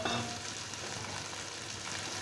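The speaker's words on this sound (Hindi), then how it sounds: "मूंगफली डालते हैं" Peanuts sizzle in hot oil with turmeric, salt and asafoetida while poha is being made, a steady close frying hiss with faint stirring and no talk.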